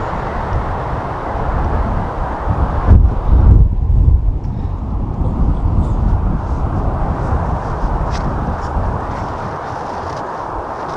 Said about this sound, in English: But it's not this windy in Wales,